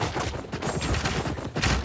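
Soldiers in a video game fire a volley of gunfire, a dense, rapid crackle of overlapping shots sustained for nearly two seconds, fairly close and loud.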